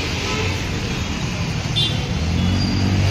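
Road traffic in Hyderabad, a steady wash of passing cars and motor vehicles with a faint distant horn toot, moderately loud and continuous with no talk.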